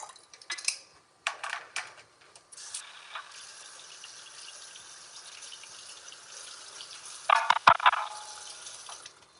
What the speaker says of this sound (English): I want to rinse out this top. Let's rinse the top out.